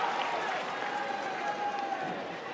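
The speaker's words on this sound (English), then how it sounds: "The crowd respond to that." Spectators applauding at a Malaysia versus Belgium field hockey match, a steady, moderately distant wash of clapping and crowd murmur lasting the whole moment.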